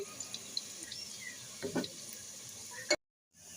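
Potatoes fry quietly in oil before being lifted out, with a soft continuous sizzle, a few faint clinks and scrapes, then an abrupt cut to silence.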